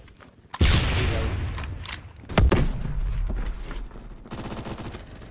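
Gunfire from the video game Phantom Forces, with loud bursts of automatic fire and sharp single shots starting abruptly, then fading between volleys before another rapid burst near the end.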